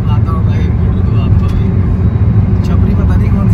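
Road traffic roars at high speed during a drag race between a Mahindra Thar and a Maruti Swift on the road from Tata to Kolkata, with a dense, constant rushing wind and engine noise that stays loud throughout.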